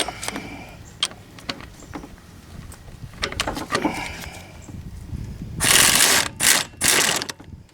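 Ratchet wrench loosening a nut during a timing belt change on a Hyundai Accent 1.6L engine, with scattered single clicks and then several loud, fast clicking bursts close by.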